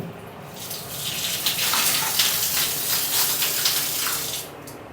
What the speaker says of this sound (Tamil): இந்த ஷவர் வந்து யூஸ் பண்ணுறீங்க அப்படின்னா இந்த மாதிரி இருக்கும்